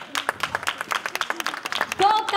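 An audience at a children's theatre show claps for a child, giving quick scattered hand claps at close range with voices talking and calling out over them.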